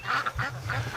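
Breeding ducks quack several times in quick succession, close and fairly loud, with nasal calls layered over one another in a brief burst.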